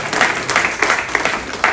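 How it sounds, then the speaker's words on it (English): An audience applauds after a keynote speech in a hall, with dense clapping from many hands rising in a few louder surges over nearly two seconds. "I can only tell you all to repeat that huge round of applause again"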